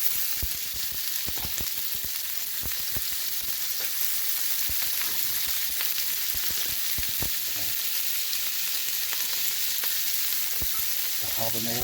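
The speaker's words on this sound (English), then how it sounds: "So let's go ahead and mix pepper and scallion." Peppers and scallion sizzle and crackle as they are stirred into oil in a pot for pelau, a steady close frying hiss broken by sharp spatula scrapes and clicks throughout.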